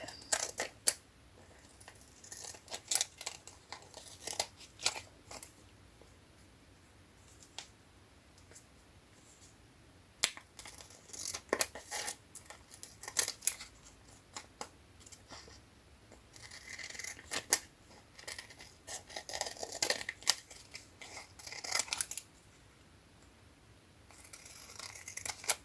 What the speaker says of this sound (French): Je vais plutôt prendre un grand ciseau.